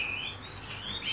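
High thin chirps from chicks in a canary breeding cage, a few faint tweets over a soft background hiss.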